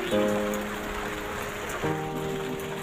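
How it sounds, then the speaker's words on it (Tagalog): Steady rain patters on a surface, a constant wash of drops with a low tonal hum running underneath. "naku, umuulan po."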